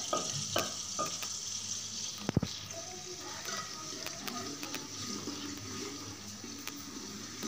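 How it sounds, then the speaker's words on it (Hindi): Steady sizzling of something frying in a pot, with occasional stirring clatter and a sharp knock partway through, no voices. "ये लहसुन हमने चूल्हे पर रख दिया है हांडी में डालकर।"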